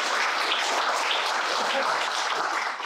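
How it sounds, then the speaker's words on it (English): A steady round of applause from a crowd gathered at an elementary school ribbon cutting, dense and even clapping that fills the whole stretch without talk. "we'll give her a round of applause anyway"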